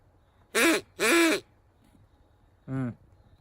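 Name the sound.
duck call being blown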